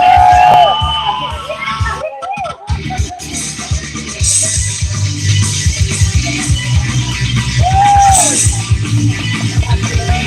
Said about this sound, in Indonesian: beri tepuk tangan untuk Hosana